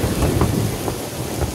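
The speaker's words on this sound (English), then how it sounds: "Finally, the famous Brittany rain." Steady heavy rainfall pours down with low rumbles of thunder in an animated Brittany scene, loud and continuous throughout with no voices.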